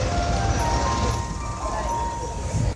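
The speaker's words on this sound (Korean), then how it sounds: "주변을 한 바퀴 둘러보는데 오르골 소리가 굉장히 이쁘네요." A delicate music box melody tinkles steadily in front of a music box museum in Otaru, Japan, amid outdoor street ambience, with a voice speaking over it.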